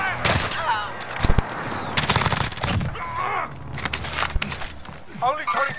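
Rapid automatic gunfire and sharp single shots rattle through a Call of Duty: Modern Warfare firefight, loud and close, with jangling gear, movement and radio-style voices talking in between.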